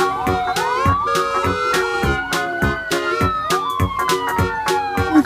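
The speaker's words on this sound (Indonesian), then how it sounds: "Yang ini ambulan." A toy ambulance siren wails loudly and close, its electronic tone sweeping up and down in a repeating cycle over rapid clicking pulses.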